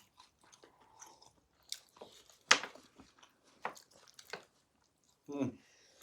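Someone eating spicy momos with chutney at home during a family challenge, with close, soft, intermittent wet chewing and crunchy bites, one sharper bite standing out, and brief voices murmuring between the mouthfuls.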